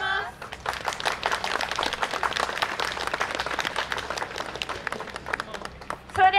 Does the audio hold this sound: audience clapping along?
yes